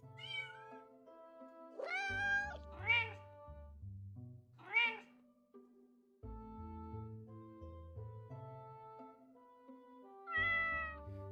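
Cartoon cats meow again and again in the Hidden Kittens: Kingdom of Cats video game, in short bright bursts set over light, bouncy background music, with no one talking.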